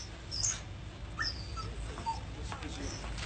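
A dog that had been rubbed with turpentine whimpers in a few faint, thin, high whines over a low background hush.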